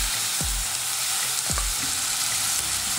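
Moong dal frying in a pan for sweet pongal, a loud steady sizzle with a couple of stirring scrapes, continuous and close.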